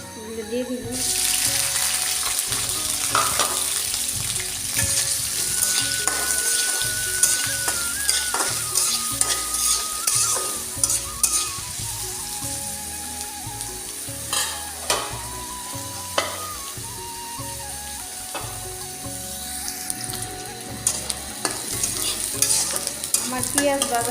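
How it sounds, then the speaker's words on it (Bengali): Onions and green chillies frying in a wok, a steady close sizzle with frequent scrapes and clinks of a spatula stirring, plus brief running water from a tap partway through; no one speaks. "আমার পেঁয়াজ ভাজা হয়ে গেছে"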